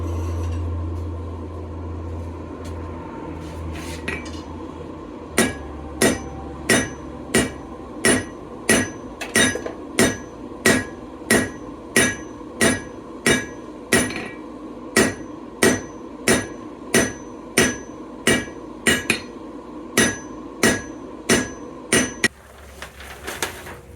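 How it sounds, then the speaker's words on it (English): Steady hammer blows on hot steel bars being forge welded, about two dozen sharp metallic strikes at an even rhythm, close and ringing, over a low roaring hum from the forge burner. "Yeah, that'll forge weld right there."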